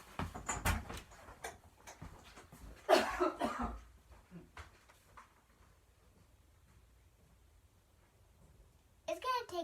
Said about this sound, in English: I'm gonna go get a glass of water because I keep coughing.